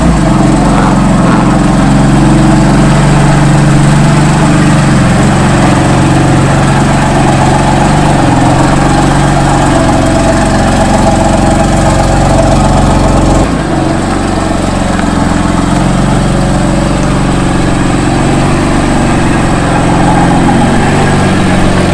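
A 2015 car's engine runs steadily at close range for the whole stretch, a loud continuous low rumble with a slight shift partway through, and no talking over it.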